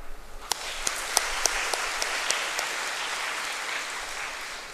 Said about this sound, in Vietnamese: chúng ta vui mừng chia sẻ niềm vui trong ngày lễ bổn mạng với giáo khu 5 bằng một tràng pháo tay